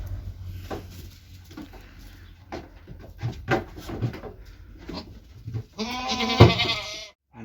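Young goat kids bleat on a farm: scattered soft calls and rustling, then one loud, wavering bleat close by near the end.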